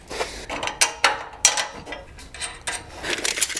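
A ratchet and a 9/16 wrench tighten bolts on a MicroSport Overland tent trailer, giving close, irregular metallic clicks and ratcheting clatter with small knocks of the tool against metal.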